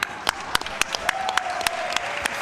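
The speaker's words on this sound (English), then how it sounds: "another round of applause for Eyeball" Crowd applause at the Classic Tetris World Championship in 2025, a steady wash of clapping with sharp individual claps popping out at regular intervals, loud and close, and a faint tone sliding in partway through.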